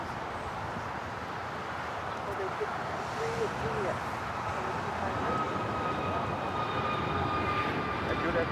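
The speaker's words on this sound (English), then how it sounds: "American Airlines 1105 taking off to Charlotte." An American Airlines Airbus A321neo jet takes off at LAX, a broad engine roar that builds steadily and stays heavy throughout, with faint radio chatter in the background.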